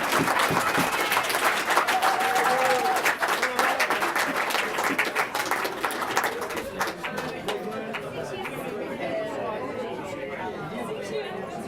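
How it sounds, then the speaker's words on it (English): Applause for a bride and groom at a wedding reception after the speeches: dense, loud clapping from a crowd fills the room, mixed with cheering and chatter, gradually thinning and softening toward the end as voices carry on underneath. "Another round of applause for the bride and groom and everyone who made a speech today."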